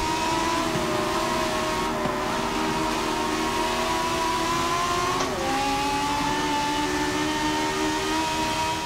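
An open-wheel race car at Monza in Forza Motorsport 7, its engine roaring steadily at high revs and climbing in pitch as it accelerates, with a brief shift dip midway and continuous loud drone throughout.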